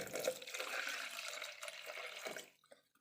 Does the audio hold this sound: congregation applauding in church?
no